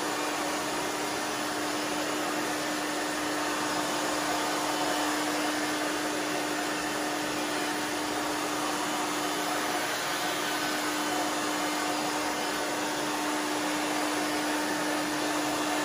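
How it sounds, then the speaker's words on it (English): Blow dryer drying hair during a pixie haircut, a steady loud whooshing hum with a constant tone running unbroken from start to finish. "then just take the blow dryer"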